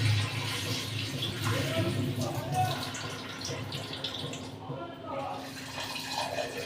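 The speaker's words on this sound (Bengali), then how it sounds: "দু তিনবার না ধুলে না আমার খুব শান্তি হয় না চাল" Tap water splashes and trickles as rice is washed in a home kitchen, a close, fairly steady running flow with small drips and sloshes, heard under someone speaking in Bengali.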